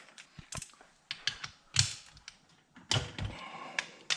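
A torque wrench tightening cylinder head bolts on a KTM LC4 engine gives a series of sharp mechanical clicks and ratcheting snaps, irregularly spaced and close up, with faint handling noise between them.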